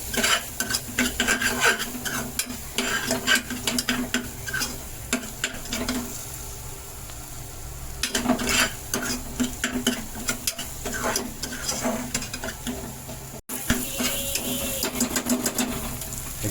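Red masala roasts in a pan for a Malvani mackerel curry while a spoon scrapes and stirs it continuously, producing a dense, rhythmic rasping sizzle close by, with a brief break near the end.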